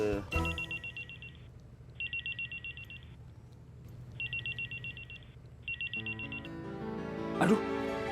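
A mobile phone rings in repeated bursts, each a short trill of electronic tones, with a brief voice near the end.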